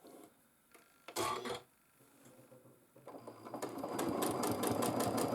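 Sewing machine stitching free motion quilting in a wishbone pattern, a short burst of rapid needle clatter, a pause, then a longer run of fast even stitching that builds louder.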